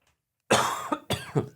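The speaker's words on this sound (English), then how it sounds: "Sorry about this cough I got going on this time." A single harsh cough followed by two shorter rough coughs in quick succession, close and loud after a moment of silence.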